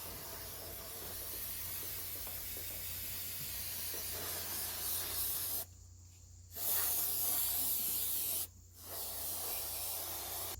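A steady, loud aerosol spray of brake cleaner on an engine hisses close by, cutting off briefly twice before resuming in long continuous bursts.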